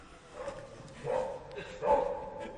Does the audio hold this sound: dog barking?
yes